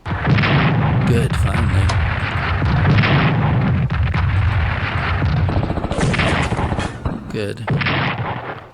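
Artillery guns fire in the World War II Pacific strategy game Strategic Command: War in the Pacific, heavy booming blasts rolling loud and continuous with sharper reports breaking through, while someone talks over the barrage.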